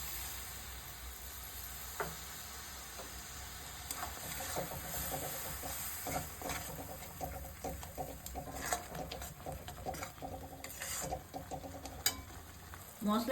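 Turmeric, chilli, cumin and ground spice paste frying in oil for a mustard pabda fish curry, a quiet steady sizzle broken by crackling pops and scattered stirring clicks, with no talk.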